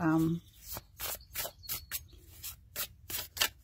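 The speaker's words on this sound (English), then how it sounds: "They shuffle so nice. You can hear that," Linen-finish tarot cards are shuffled close up in a quick series of soft riffling bursts, about a dozen crisp flicks with a faint voice at the start.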